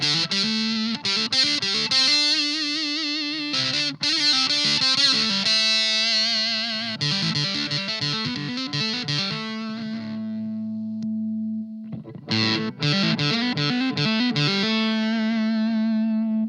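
Electric guitar played through a Maestro fuzz pedal set to its all-out fuzzed mode, loud and saturated with thick sustained distorted notes and chords, a short near-silent gap of held low tone midway before the heavy fuzz returns.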